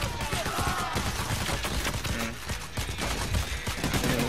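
Dense, rapid gunfire from Payday: The Heist, a loud continuous fusillade of overlapping shots and bursts filling the whole stretch.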